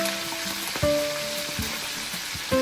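Oil sizzles and spits in a pan with chicken for Salvadorian smothered chicken, a steady crackling fry punctuated by a few louder bursts, close up with no talking.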